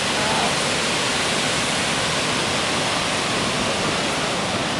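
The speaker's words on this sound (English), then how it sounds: "There's the waterfall." Niagara Falls on a morning walk, a constant dense roar of falling water, loud and steady without a break.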